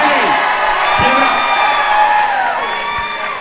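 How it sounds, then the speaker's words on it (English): A studio audience claps and cheers for a woman on a dating show, with whoops and shouts over sustained applause that holds steady, then tapers slightly at the end. "Clap it up for Kate."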